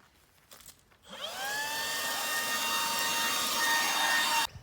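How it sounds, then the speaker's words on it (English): A Makita DUB184 brushless cordless electric leaf blower starts up and runs at a steady high whine with rising tonal pitch, loud and close for several seconds before cutting off abruptly, no speech. "This little Makita brushless blower is just a little ripper."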